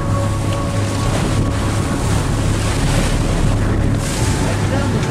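A sailboat beats toward the Pitons of St. Lucia in 15 to 18 knot winds, with steady wind rush and sloshing waves against the hull filling the whole stretch, loud and continuous with a low engine-like hum beneath.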